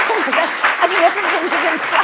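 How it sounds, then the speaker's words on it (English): A lecture audience gives sustained applause, a dense continuous patter of many hands, while a voice talks over the clapping. "Can everybody just give a big round of applause?"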